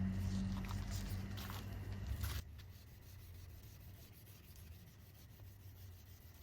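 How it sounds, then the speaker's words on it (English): Wet sanding a car headlight by hand in back-and-forth strokes, a close, steady rasping rub that stops abruptly partway, leaving faint quiet handling noise afterward. "So now we gotta sand it in non-circular motions, and we're gonna sand it until the whole headlight is cloudy."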